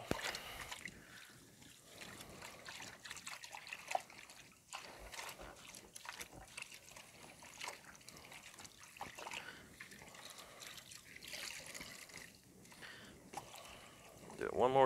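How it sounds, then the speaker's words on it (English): Water sloshes and trickles as an item is rinsed by hand in a bucket after a red stain-removal chemical treatment; the splashing stays fairly quiet and uneven, with a voice talking now and then. "I'm just going to rinse this in water and see how it comes out"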